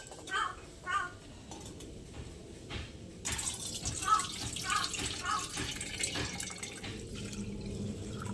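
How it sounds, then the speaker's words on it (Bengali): Rice being rubbed and washed by hand in a bowl of water, with soft sloshing, dripping and splashing, followed by a rush of water poured off, close and fairly quiet. "চালটা ভালো করে ডলে ডলে ধুয়ে নেব।"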